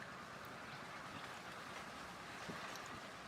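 Raw potatoes for homemade chips are washed by hand in a bowl of water, giving a steady, close sloshing and splashing wash with no pauses.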